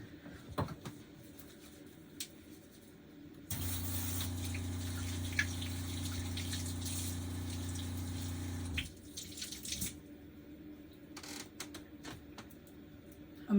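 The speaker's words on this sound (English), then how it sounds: "And then I'm going to wash my hands," A kitchen tap runs steadily for about five seconds while hands are washed under it during home cooking, a broad close rushing of water that starts and stops abruptly, with quieter kitchen clatter before and after.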